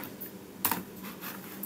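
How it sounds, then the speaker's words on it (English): A computer keyboard clicks under a short burst of typing, with a handful of light keystrokes and one sharper tap, close and quiet with no talk. "And I'm typing"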